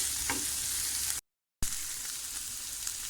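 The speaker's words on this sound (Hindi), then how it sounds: "अब हम इसकी खूब अच्छी तरह से भुनाई कर लेते हैं।" Liver (kaleji) frying on a tawa, a continuous close sizzle with stirring, broken by a short gap of silence before the sizzling resumes.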